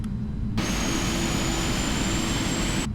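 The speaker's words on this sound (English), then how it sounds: "Well, I love hearing the engine start." Air France Boeing 777F jet engine spinning up during start in Microsoft Flight Simulator 2020, a steady loud roar with a rising high whine that holds throughout, alone without talk.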